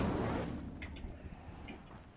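An Incendio fire spell is cast in the Hogwarts Legacy video game, opening with a burst that fades into a low rumble with a few faint crackling ticks afterward.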